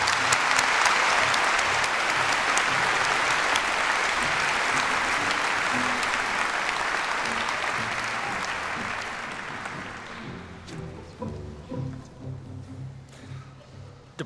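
Graduation ceremony audience gives sustained, dense applause for the graduates, loud and steady for about ten seconds before thinning into scattered claps.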